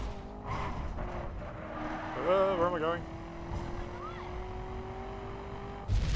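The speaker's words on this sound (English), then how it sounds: "It's got some really nice sound effects for the engine noises and all that." Car engine effects from the racing video game The Crew, a steady droning engine tone with a short swell and tire-squeal-like warble, fairly quiet, with someone speaking briefly over it.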